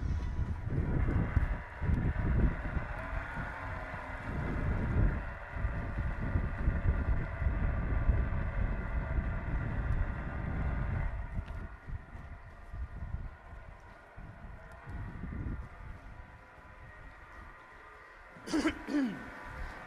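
A small boat with an electric outboard motor cruises through the canals of Amsterdam in wind, giving a steady low rumble of water and wind buffeting that runs throughout, with a brief sharper burst near the end.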